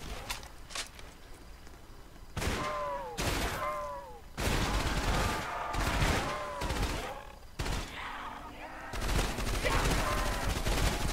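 Gunfire in a Roblox zombie-survival game on the Undead Nocturn map, heard as scattered bursts and single shots at moderate distance, with game sounds and bits of voice in between.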